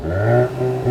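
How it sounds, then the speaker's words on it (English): A new Volkswagen Golf GTI in sport mode gives a short, loud exhaust rev, its engine note rising and settling as it idles near the soft limiter, with no talk. "So rev it up now."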